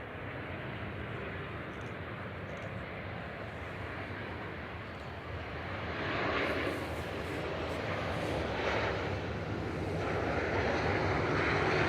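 Jet2 Boeing 737-800 airliner, flight 1740 from Skiathos, at Manchester Airport, a broad steady engine roar that swells midway and stays loud and continuous throughout, heard from a distance with no talk.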